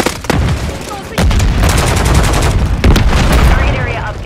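Dense, continuous gunfire and booming impacts in Call of Duty MW3 multiplayer, heavy and close, with voices calling out under the shooting.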